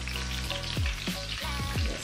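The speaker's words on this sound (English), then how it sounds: "That sizzle." Chicken pieces for fried chicken fry in hot oil, a dense, loud, close sizzle that runs steadily with occasional bubbling pops.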